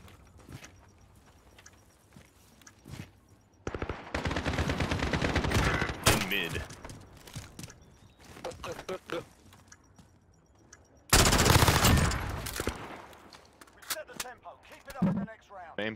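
Video game gunfire in two loud sustained bursts of rapid shots separated by quieter stretches, with scattered single shots and players talking in between.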